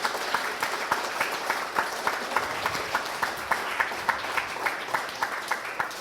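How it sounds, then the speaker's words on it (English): An audience at a science lecture gives a steady round of applause, a broad, even wash of clapping with regular accented beats running through it, moderately loud and without talk. "Let's give him a round of applause."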